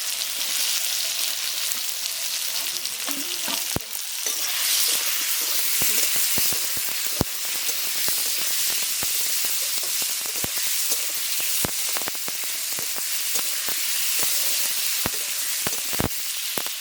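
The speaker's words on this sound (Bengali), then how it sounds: "একটু লাল করে ভেজে দিব" Food for an egg recipe fries in a pan with a bright, continuous sizzle and hiss, broken by sharp crackles and pops throughout, close and unaccompanied by speech.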